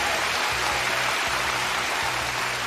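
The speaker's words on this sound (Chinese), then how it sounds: "你们不要鼓掌鼓那么多了。" Dense, sustained applause from an audience at an award ceremony fills the whole stretch, loud and even, with no voices standing out.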